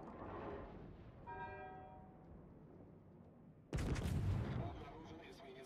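In the naval battle game World of Warships, the battleship Poltava fires a sudden, heavy broadside partway through. The blast booms over a steady low rumble of battle ambience, with someone speaking.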